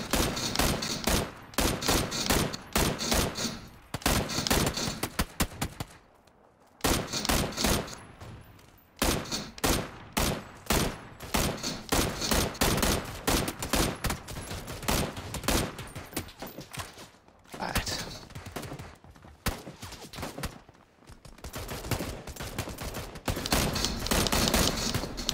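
Relentless automatic gunfire from a PUBG match, dense rapid bursts of shots nearly nonstop for the whole stretch with a few brief gaps, loud and close in a chaotic firefight.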